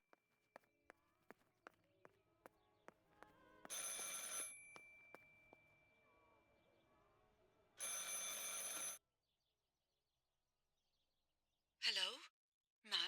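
Telephone ringing in the horror video game Martha Is Dead, heard as a thin repeated ring over soft footsteps and ambience, broken by sudden loud bursts of hissing noise and a brief warbling sound near the end.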